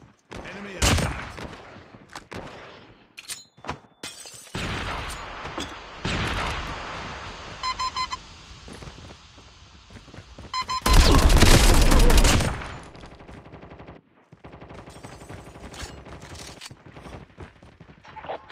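AK47 fire in a video game, loud and close: short bursts and single shots, then a long sustained automatic stream, with pauses and scattered later shots.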